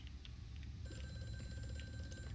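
An old telephone bell rings steadily inside the horror game Amnesia: A Machine for Pigs, a thin continuous electric ring over a low droning ambient hum, moderately distant and unaccompanied by voices.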